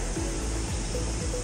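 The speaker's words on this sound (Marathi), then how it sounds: "शांत लाटांचा आवाज" Calm sea waves wash steadily along the Konkan coast near Ratnagiri, beneath hills, as a soft, continuous surf hiss with no clear breaks or voices.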